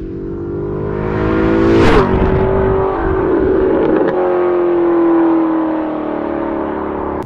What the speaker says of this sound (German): Also Sound von dem Auto und das Gebrabbel, das ist einmalig.